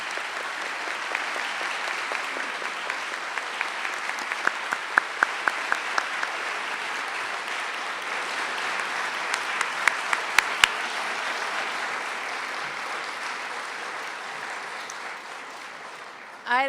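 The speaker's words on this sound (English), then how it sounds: "I'd like the audience to give a big round of applause to both of these fine candidates" A debate audience applauds two Metro Council president candidates, sustained even clapping throughout at moderate volume with a few sharper individual claps standing out, tapering near the end.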